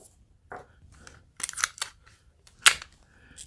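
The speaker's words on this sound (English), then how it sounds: "And then I'll just cut it off right here." Scissors make a few sharp, close snips, isolated crisp cuts spaced irregularly over quiet background with no talking.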